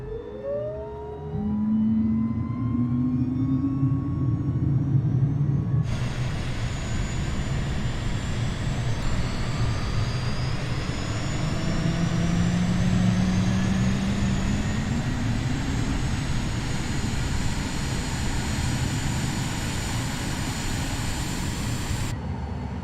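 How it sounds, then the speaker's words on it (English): A Cirrus Vision Jet G2 engine starts up, heard from outside in the MSFS flight simulator: a loud, steady jet roar with a slowly rising and falling whine that settles into a constant high hum. "Engine start sounds much better on the inside view than the outside view"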